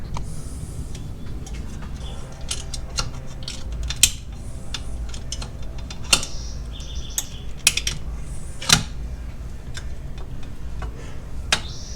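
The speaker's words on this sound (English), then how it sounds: "we are going to pull through with a pick until they land inside the shoe" Metal brake spring tails on a C5 Corvette rear brake shoe are pulled through with a pick, giving sharp scattered ticks and clinks over a low background, with a few louder snaps.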